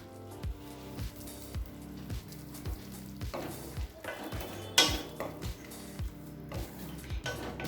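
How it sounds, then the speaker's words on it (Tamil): Tomatoes are sautéed and stirred in a pan for a Tamil egg gravy, a spatula scraping and tapping the pan in a steady repeating rhythm with a soft sizzle beneath, close by and without talking. "இப்போ நல்லா பச்சை வாசனை போக வதக்கிக்கலாம்."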